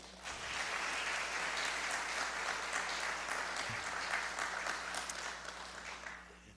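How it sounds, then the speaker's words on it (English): Audience applauding at a Golden Apple award presentation, a dense sustained clapping from a crowd that holds steady for several seconds and tapers slightly at the end. "Please give them a round of applause"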